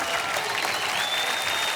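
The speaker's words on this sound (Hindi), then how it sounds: "तालियां" A studio audience on a TV game show applauds, a dense and steady wash of many hands clapping, loud and close, with faint crowd noise mixed in.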